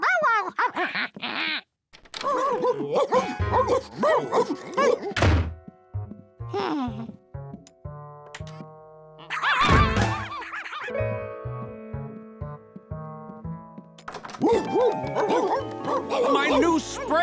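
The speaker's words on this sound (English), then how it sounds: "George, there are like 20 dogs in here." A crowd of dogs, big and small, bark, yip and whine in an animated cartoon scene, busy and overlapping, mixed with music and character voices.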